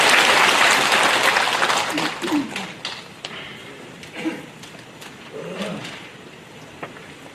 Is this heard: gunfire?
no